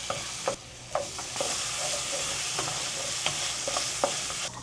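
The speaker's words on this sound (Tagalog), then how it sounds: "Sasabay ko na guys yung pagpiprito ng isda para mabilis." Fish frying in a home kitchen pan, with a steady hiss of sizzling oil and intermittent clinks and scrapes of stirring.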